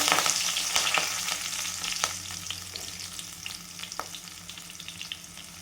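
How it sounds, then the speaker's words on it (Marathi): Mustard seeds, cumin, curry leaves and onion fry in very hot oil, giving a steady close sizzle with scattered pops and crackles that gradually soften. "राई जिरं छान फुलू द्यायचं कढीपत्ता कांदा"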